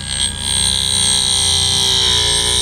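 Scheppach DBS800 drill bit sharpener grinding a drill bit: a steady, loud high-pitched whine with a continuous buzzing drone, holding nearly constant throughout with no talk.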